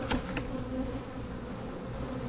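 Honeybees inside a hive box make a steady, close droning buzz with a few louder individual bees passing near at the start, continuous and with no voices.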